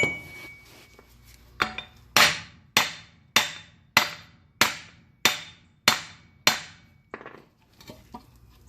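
A hammer drives a wheel bearing stud on a Honda Accord, nine sharp metallic blows in a steady, evenly spaced rhythm, close and loud with no talking.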